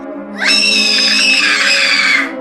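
Children scream in a horror story sound effect, a sustained, piercing shriek that bursts in suddenly, holds loud for nearly two seconds, then cuts off over a low background drone.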